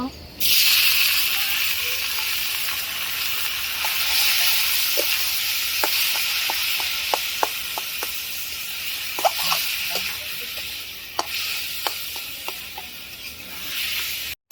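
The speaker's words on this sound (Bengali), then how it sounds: "পেঁয়াজটা একটু ভেজে নিব, শাক দিয়ে দিব" Onion, green chillies and garlic fry in a pan for red amaranth greens, giving a steady sizzling hiss broken by sharp clicks and taps of a spatula, with no talk.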